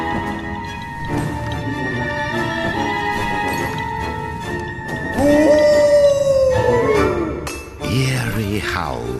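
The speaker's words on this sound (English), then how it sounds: "Eerie howls echoed through the Snackerbosk's shadowy branches." Eerie howls from the video game Puppeteer rise and fall, with a long wolf-like wail standing out over layered game music and effects, fairly loud and close.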